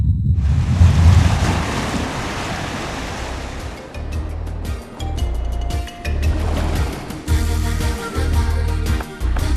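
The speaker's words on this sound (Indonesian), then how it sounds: "terdengar bunyi gemuruh dan tidak lama kemudian terjadi tsunami" Roaring tsunami waves surge in a heavy, continuous rush of water and wind, loud and close, swelling and easing in broad pulses with no voices.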